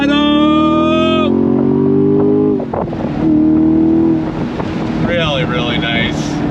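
A 2024 Chevrolet Camaro SS V8 revs up under full throttle, a loud rising engine note that shifts through gears, with wind buffeting the microphone.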